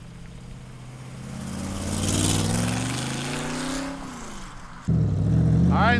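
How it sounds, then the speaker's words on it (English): A 1965 Shelby Cobra replica built by Factory Five, with a 351 V8, drives past, its engine note swelling and falling as it accelerates, loud and close, before a sudden shift to a harsher, louder roar near the end. "let's take its Cobra for a ride"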